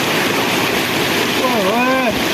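Fast-flowing clear river water rushes steadily and loudly close by, with a brief tonal voice or whistle rising and falling over it near the end.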